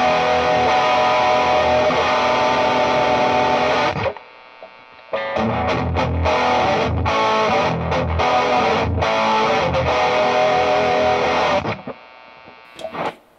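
A Strymon Sunset dual overdrive pedal with its drive cranked all the way up, loud saturated electric guitar chords sustaining, then a brief near-silent gap before a run of choppy, stabbing distorted strums that end in ringing decay.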